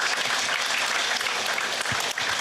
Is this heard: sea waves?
no